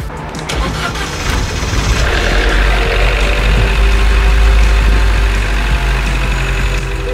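An Opel Meriva B engine, just after a valve cover and PCV replacement, starts up loud and close, then settles into a steady, slightly rough idle.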